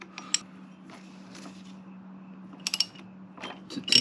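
Ratchet with an 18 mm socket working on Suzuki DRZ400 clutch cover bolts, faint sparse clicks and metallic taps over a low hum, with a cluster of sharper clicks toward the end.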